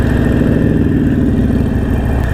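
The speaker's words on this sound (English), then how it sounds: "I rented a Harley Davidson Iron Sportster 883." A 2016 Harley-Davidson Sportster Iron 883 in stock form, its V-twin engine running loud and close with a steady, even rumble and no voices.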